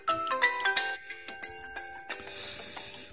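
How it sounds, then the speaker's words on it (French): The single built-in ringtone of an Asus Pegasus 2 Plus X550 smartphone plays from its speaker as a bright, rhythmic melody of plucked, chiming tones, steady and close, with no talking. "Là, c'est la sonnerie du téléphone"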